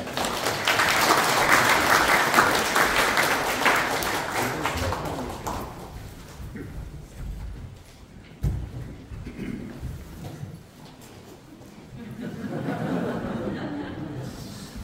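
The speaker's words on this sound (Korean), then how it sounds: "시장님 나오실 때 큰 박수 부탁드립니다" A room full of people at a community council evaluation and awards ceremony in Pocheon, South Korea, claps loudly and steadily for several seconds as the mayor comes up, then the applause thins out, with some laughter and murmuring voices.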